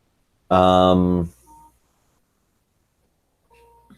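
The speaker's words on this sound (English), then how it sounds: "You can dial the phone this way without having to go through Google Voice." A single telephone keypad dialing tone sounds through a Google Meet call, one loud sustained electronic beep followed by quiet, with a faint tone returning near the end.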